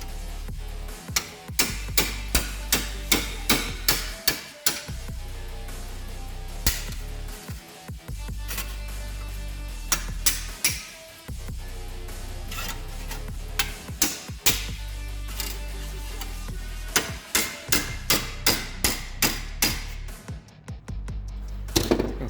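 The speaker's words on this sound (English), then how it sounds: "so I'm going to hit it with an hammer, see what happens." A hammer strikes spot-welded metal held in a vise on a 1950s–60s three-phase Triangle Monoflex spot welder bench, sharp metallic blows in quick bursts of several hits separated by short pauses, loud and close with no talk.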